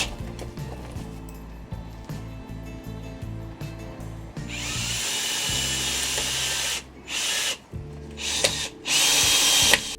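A power drill drives screws into a hydroponic vegetable bench, running in repeated short bursts up close, then a longer, louder continuous whine with several brief pauses before it starts again.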